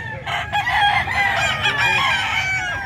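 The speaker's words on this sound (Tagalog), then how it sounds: "Yan, mga manok ni sir." Chickens and roosters at a livestock market in San Carlos City, Pangasinan, crowing and clucking loudly and continuously, several birds overlapping close by.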